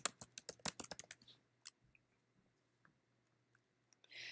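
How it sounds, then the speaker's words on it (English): Computer keyboard typing at close range, a fast burst of key clicks for about a second, then a few scattered isolated taps in a quiet room. "I'm going to type in mortgage calculator"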